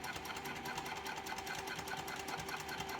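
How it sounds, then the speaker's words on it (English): A sewing machine runs steadily, stitching a narrow seam around the curve of an all-cork clutch wallet, its fast even needle rattle continuous and close with no talk over it. "just stitch just over 1/8 of an inch or about 1/8 of an inch seam"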